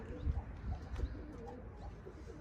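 A pigeon coos softly a few times at a distance, the low rounded calls faint against quiet outdoor background.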